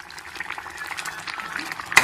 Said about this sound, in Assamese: এতিয়া ধুনীয়াকৈ এইটো ভাজি লাষ্টত অলপমান পানী দি দিম